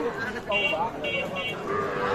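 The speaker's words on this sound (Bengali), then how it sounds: "শাহিওয়াল ষাঁড় বাছুর" Sahiwal bull calves at a livestock market low in drawn-out moos, several calls in a row close by, with crowd murmur and voices behind them.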